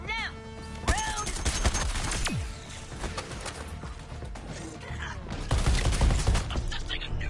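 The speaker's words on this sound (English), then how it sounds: "Love the sound of breaking crystals." Crystals shattering in a sci-fi shooter video game, a busy run of sharp cracking bursts and crashes layered over steady gunfire and game sounds, with someone talking over parts of it.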